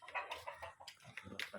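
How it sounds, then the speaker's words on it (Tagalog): Fighting roosters clucking and calling in short bursts, fairly faint and close together, with no talking. "Ano sabi yung mga manok na mga panabong dito?"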